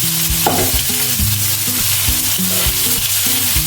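A Dhakai chingri prawn dish sizzling loudly in a pan while being stirred, a dense, steady frying hiss with a few spatula scrapes, close up, with a melodic music track playing underneath.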